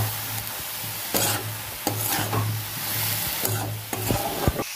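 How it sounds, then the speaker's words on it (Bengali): Red amaranth leaves fry in a pan with salt and a sprinkle of poppy seeds, while a spatula scrapes and stirs in repeated strokes over a steady close sizzle, with no talking. "শাকটাকে এবার নেড়ে চেড়ে ভালো করে ভেজে নেবো।"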